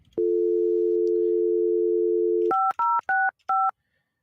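Tones from a telephone system play close and loud: a steady dial tone for over two seconds, then four short, quick dialing beeps.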